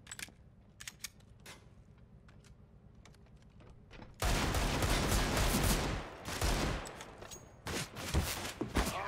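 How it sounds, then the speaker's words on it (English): Gunfire in a Deagle-focused shooting video game: sparse clicks and taps at first, then dense, loud bursts of rapid shots that keep going in clusters, with keyboard clatter mixed in. "So many bullets! So little time."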